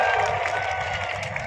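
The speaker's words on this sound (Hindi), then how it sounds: "एक बार जोरदार तालियों के साथ" Applause from a crowd at a BJP election rally in Dhanera, a brief steady wash of clapping with a faint voice underneath.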